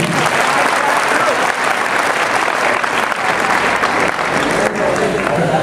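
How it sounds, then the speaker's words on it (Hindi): Loud, sustained applause from a large crowd welcoming guests at a school foundation day celebration, a steady dense roar of clapping with voices mixed in. "तालियों से हमारे अतिथियों का स्वागत करें।"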